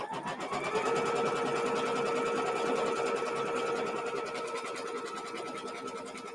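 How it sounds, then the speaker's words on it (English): A sewing machine steadily stitches out a quilt block, its fast, even mechanical whir running continuously and close for the whole stretch without a pause. "Now we'll just go ahead and stitch out step number"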